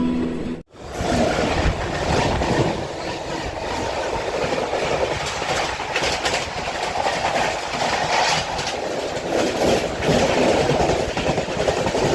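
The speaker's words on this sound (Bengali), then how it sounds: "ট্রেন এখন পাঁচশো ছত্রিশ কিলোমিটার গন্তব্য অতিক্রম করে এখন কিষানগঞ্জ স্টেশন ছেড়ে বেরিয়ে যাচ্ছে" A train pulls out of Kishanganj station, India, rolling along with steady rumbling and rhythmic clickety-clack of wheels on rails, loud and close throughout, no voices.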